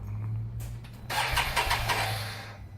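A Can-Am Maverick Sport 1000R XMR side-by-side fitted with a Yoshimura exhaust cranks over and fires, its close, deep exhaust bursting to life and then settling into a rough, throbbing idle.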